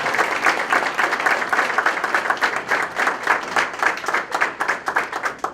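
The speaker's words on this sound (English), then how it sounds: "please give a round of applause for our students in the Culinary Arts Department" An audience at a high school career and technical education awards night gives a round of applause for culinary arts students, loud and dense clapping from many hands, sustained and close, with no speech over it.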